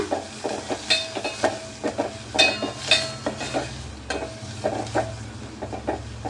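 Stirring and sizzling as a Konkan-style bangda fish curry base fries in a pan, with a spoon scraping in repeated strokes over a steady close hiss and a low hum beneath.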